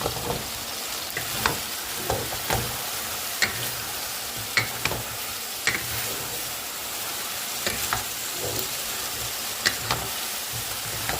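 Chicken adobo with mushrooms sizzles and fries in a pan while a utensil stirs it, scraping and ticking against the metal at irregular intervals over a steady hiss.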